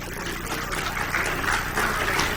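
Applause from the audience at the opening of a medical congress, a broad, steady wash of clapping that swells slightly toward the end, continuous and moderately loud.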